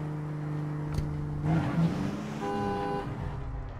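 A car in APB Reloaded drives along with a steady engine tone, then gives a couple of short horn toots midway and a longer honk near the end.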